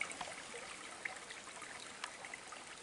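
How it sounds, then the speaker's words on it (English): Small waterfalls trickling in a rocky stream, a steady close hiss of running water with faint bubbling drips throughout, no voices. "I see waterfalls up there,"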